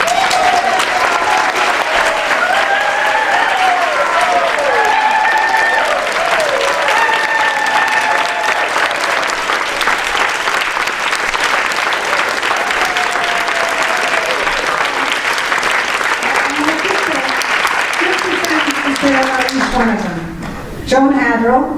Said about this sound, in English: we will give them a great round of applause